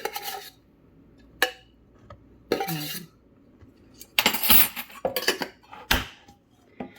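A spoon clinks and scrapes against a bowl while baking powder is added to flour, in several short bursts of metallic rattling and rubbing, close and fairly loud, with quiet gaps between.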